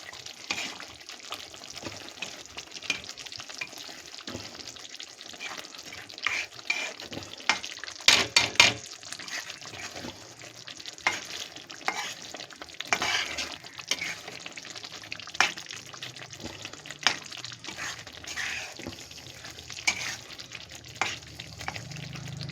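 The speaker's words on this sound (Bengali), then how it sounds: "ধনেপাতা দিয়ে দিলাম, ভালো করে মিশিয়ে দেব।" Katla fish curry stirred in a pan after coriander leaves go in, a soft bubbling simmer with intermittent spoon scrapes and clinks, close but fairly quiet, no voices.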